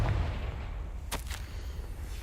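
Confringo fire spell blast in Hogwarts Legacy, a sharp crackling burst about a second in over a rumbling game background, with a quick second flare right after.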